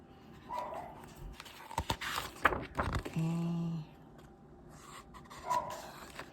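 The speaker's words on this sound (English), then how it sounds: "as you can hear in the background, our dog is barking" A dog barks and whimpers faintly in the background among quiet room noise, with a brief tonal whine in the middle.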